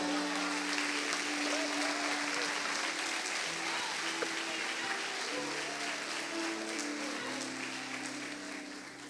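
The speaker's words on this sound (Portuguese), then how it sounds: "uma salva de palmas para Jesus" Sustained applause from a church congregation during a Sunday service fills the space, dense and steady, with a held musical tone underneath and fading slightly toward the end.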